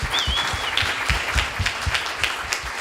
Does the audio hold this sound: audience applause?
yes